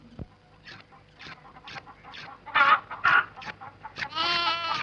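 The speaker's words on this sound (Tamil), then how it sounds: "எதுக்கு கோழியை பிடிச்சிட்டு இருக்கீங்க" Chickens cluck and squawk in agitated bursts, rising to loud flustered cries as they are grabbed, close by, with scuffling in between.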